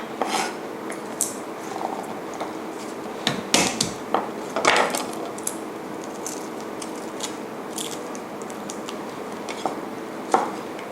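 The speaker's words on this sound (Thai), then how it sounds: "สำหรับกระเทียมนะคะ อันนี้เราจะต้องมาทุบ และลอกเปลือกออกนะคะ" Garlic cloves being crushed and smashed on a board while preparing Thai tom jap chai soup, with a few sharp, near thuds and knocks scattered among light kitchen clatter, and no talking.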